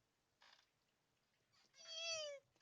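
A cat meows in a video game, a short faint call followed by a louder drawn-out rising and falling meow, with quiet pauses around it and no talking.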